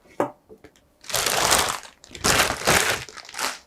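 A plastic bag crinkles loudly in several rustling bursts as a newly bought coffee machine is pulled out of it, close by, after a few light taps and handling noises.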